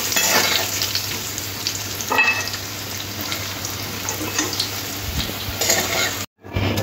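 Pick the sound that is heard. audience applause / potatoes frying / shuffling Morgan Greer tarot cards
potatoes frying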